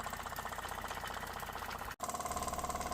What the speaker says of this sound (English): Georgrs Carette steam engine is running at full steam from France